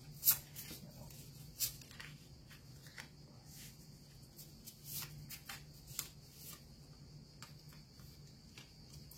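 Tarot cards shuffled by hand during a reading, soft repeated riffling and flicking bursts at an irregular pace against a quiet room with a faint steady hum.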